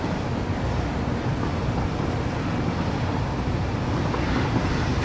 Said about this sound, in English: the train's going to unload all of our product